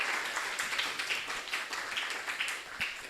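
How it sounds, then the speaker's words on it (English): Applause for a speaker at an international seminar, a steady patter of many hands clapping, moderately loud and continuous throughout with no talking. "A round of applause for her."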